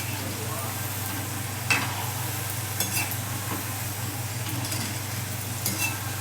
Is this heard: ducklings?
no